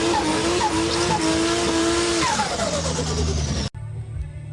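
Nissan Z32 engine running on a quick test after an airflow meter install, revving with rising and falling whine, loud and close, cutting off abruptly near the end to a quieter idle-like hum.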